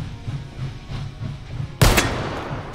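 A single sharp, loud gunshot goes off in the VR game H3VR, striking suddenly after a low rumbling background and leaving a brief fading tail.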